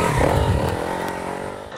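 An enduro motorcycle roars at full throttle as it charges up a steep slope in extreme enduro riding. The engine sound is loud and close, with a strong, steady rev that eases only slightly toward the end.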